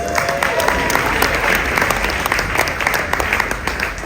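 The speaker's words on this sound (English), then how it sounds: "Let's give him a round of applause." Steady applause from a large audience at an awards ceremony in a theater, dense continuous clapping with some crowd noise, holding at an even level throughout.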